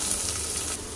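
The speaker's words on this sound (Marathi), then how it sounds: "तेल गरम झाले, यामध्ये घालूया कढीपत्ता आणि आता यामध्ये घालूया कांदा" Chopped onion dropped into hot oil with curry leaves, producing a loud, dense sizzle that drops off slightly near the end of a brief moment.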